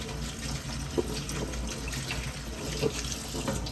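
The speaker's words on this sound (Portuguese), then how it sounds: "Aí dou outra lavadinha, ó, com água corrente, pra tirar o vinagre, né?" Tap water runs steadily into a kitchen sink as dried beans are rinsed under the flow, a continuous close splashing with a couple of brief louder clinks, no voices.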